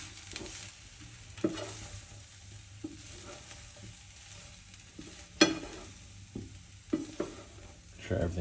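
A spoon stirs a garlic sausage one-pot meal in a pan in a small kitchen, giving steady sizzling frying with intermittent scraping stirs and occasional sharp clacks against the pan, close and fairly quiet.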